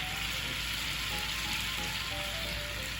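Garlic-ginger paste sizzles with chicken tikka on a hot tawa, a dense, continuous frying crackle close by and fairly loud, with no talking.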